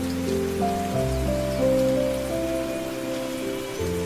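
Heavy rain falls as a steady, dense hiss that runs throughout, partly covered by sustained musical tones layered on top.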